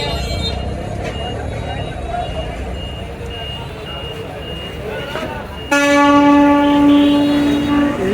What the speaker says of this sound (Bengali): ট্রেনটি কিছুক্ষণ আগে এদিক দিয়ে গেছিল দুইটি বগি নিয়ে সামনে এখন আবার এই লাইনে যাচ্ছে দেখতে পাচ্ছেন